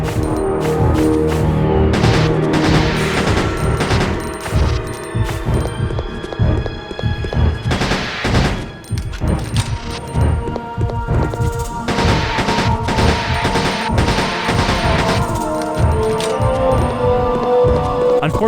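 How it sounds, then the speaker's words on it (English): Pistol shots fired at the Nosferatu boss in Resident Evil Code: Veronica, sharp repeated cracks scattered through a dense, loud game soundtrack with thumps and rumbling effects, no speech. "we're just gonna try to finish him with the pistol"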